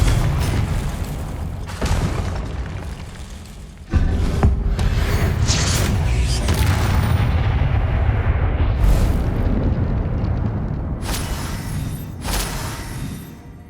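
Blasts from the Confringo explosive spell in a Hogwarts wizarding game boom out loud and close, with several bursts and rumbling aftershocks layered over a dense, continuous roar.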